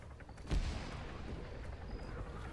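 Frag grenade explosion in the Arma 3 military game, one sharp boom with a low thud that trails into a rumbling tail under ongoing battle noise.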